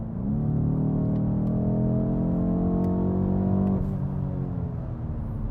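A 2019 BMW M850i accelerates hard in traffic, its engine note climbing steadily and loudly before a brief shift in pitch near the end, then carrying on with a strong, continuous roar.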